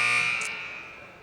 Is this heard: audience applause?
no